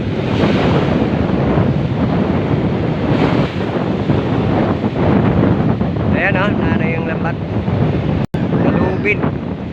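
Large rushing ocean waves blend with heavy wind buffeting the microphone, a loud continuous roar with brief voices in the background.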